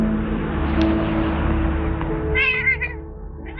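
A cat meows in a scene from a Superman film, its cries rising clearly above a steady low background hum near the end of the excerpt.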